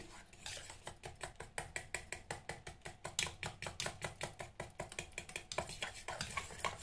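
A fork whisks besan face pack paste in a bowl, making a fast, steady run of close clinking taps against the bowl's side with no talking.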